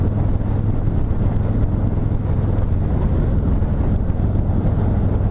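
A 2019 Harley-Davidson Fat Boy 114 ridden at highway speed around 65–70 mph, downshifting from sixth to fifth: a steady low engine drone buried under loud, constant wind rush from the ride, with no clear gear change audible.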